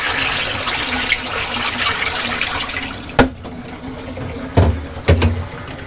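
Water poured out of a Tuttnauer autoclave sterilizer reservoir, a steady rushing wash for about three seconds followed by a few short splashing gulps and thuds as the flow ends.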